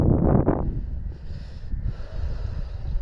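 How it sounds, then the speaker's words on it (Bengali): Strong wind blowing across the Naf river at the Teknaf border, a loud close gust buffeting the microphone at first, then a steadier lower roar of wind with faint rustling and no talk. "প্রচুর বাতাস"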